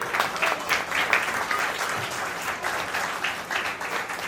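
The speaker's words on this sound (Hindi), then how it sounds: "कर्नल साहब के लिए तालियां तो जरूर बनती हैं" An audience claps for a Colonel at a social service organisation's eighth anniversary function, steady dense applause held at an even level for the whole stretch, with no talking over it.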